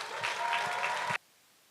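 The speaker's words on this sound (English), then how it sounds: "a big round of applause for Juliana Rodriguez" Audience applause at a university fall speech showcase, a steady wash of clapping from a crowd that cuts off abruptly into quiet room tone.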